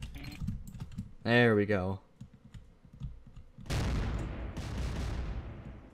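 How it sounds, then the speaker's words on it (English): Missiles fire from the top of a tower in the Garry's Mod sandbox game, a loud sustained blast of rushing noise following a short spoken phrase and some keyboard clicking. "I'm gonna fire missiles at him."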